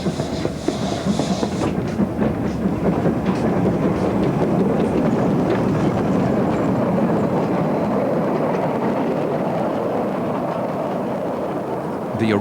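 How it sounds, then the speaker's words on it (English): A Welsh Highland Railway train pulls away behind Gellert, a 1953 Bagnall locomotive, with wheels clattering rhythmically over the rails under a steady rumble. Wind buffets the microphone, and a voice may speak faintly. "Here we see a train departing behind Gellert,"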